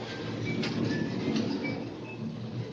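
A model train runs along an automatic track-changing railway, a steady low rolling rumble with faint clicks and brief tonal whines, continuous and moderately quiet, with no voices.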